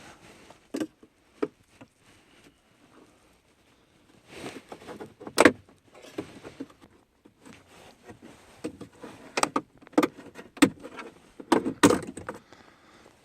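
Interior trim on a Dodge RAM is pried up with a plastic trim tool, giving sharp clicks and snaps in bursts between quiet stretches, close and clear.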